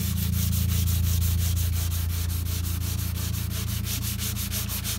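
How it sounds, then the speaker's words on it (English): 240 grit sandpaper lightly scuffs the surface of a composite wing in quick, regular back-and-forth strokes, a close rhythmic rasping over a steady low hum, continuing evenly without talk. "Here I've got a new piece of sandpaper. It's about 240 grit, and I just wanted to scuff the surface, getting it ready for primer"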